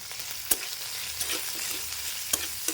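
Onions with a pinch of turmeric and salt frying in a pan, a loud dense sizzle close up, broken by a few sharp clacks of a spatula against the pan, with no speech.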